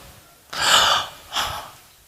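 A voice imitates labored gasping breaths, two sharp, strained inhalations in quick succession, close and clear against near silence.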